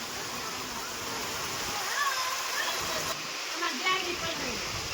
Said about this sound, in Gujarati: વરસાદ પણ ચાલુ થઈ ગયો છે